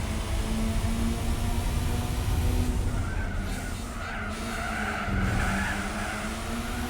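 A Volkswagen Lupo racing in Gran Turismo 4, its engine droning steadily with a rising pitch as it accelerates, with tire skids and squeals throughout.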